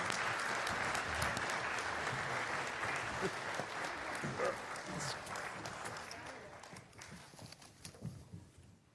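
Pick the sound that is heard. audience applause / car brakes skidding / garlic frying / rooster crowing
audience applause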